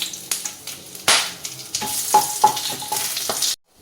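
Whole spices and bay leaves fry in hot oil with ghee, a steady sizzle broken by repeated scraping stirs of a spoon against the pan, close and clear, with no voices.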